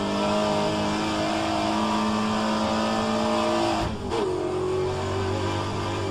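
A Trans-Am race car engine driven with an H-pattern shifter in a racing game, holding a loud high whine that briefly drops at a gear change and then climbs again.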